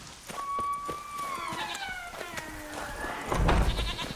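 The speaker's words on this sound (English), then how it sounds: "Goats." Goats bleat in a video game of The Witcher, a couple of wavering nasal calls close by, one drawn out and another rising after it, over soft footsteps and ambient game noise.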